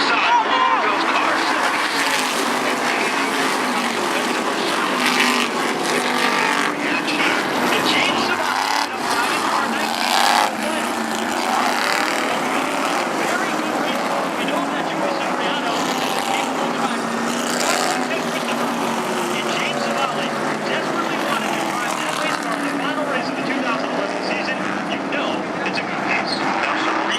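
SK modified stock cars race around an oval track during a feature race restart, engines roaring in a constant loud drone with passing surges while an announcer talks over the noise.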